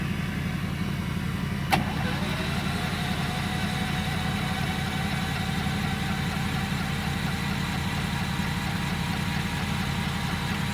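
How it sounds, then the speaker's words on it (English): A generator engine runs steadily nearby in cold weather to power a block heater for an old fuel truck, a constant low drone with one brief sharp click early on. "get this generator fired up."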